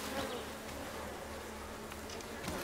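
Steady buzzing of bees swarming around a hive in the archery adventure game Blacktail, a continuous insect drone holding at even loudness throughout with no speech over it.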